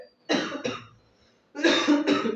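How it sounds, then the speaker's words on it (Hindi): Two bursts of close coughing, each a pair of quick harsh coughs, separated by a short pause. "एक्चुअली थोड़ा खांसी आ गई"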